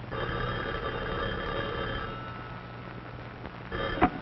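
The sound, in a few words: telephone bell ringing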